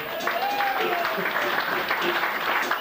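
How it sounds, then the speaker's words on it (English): An audience applauds for a man at a storytelling event, a continuous wash of clapping with voices and a brief whistle or call mixed into it. "I think that deserves a round of applause for Bob Whiskins"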